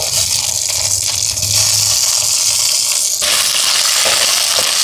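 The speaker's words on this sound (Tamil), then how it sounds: "இப்போ இந்த வெங்காயமெல்லாம் நல்லா வதங்கட்டுக்கும்" Whole green chillies and small onions sauté in hot oil in a pan, giving a loud, dense, continuous frying hiss up close with light stirring rattles underneath.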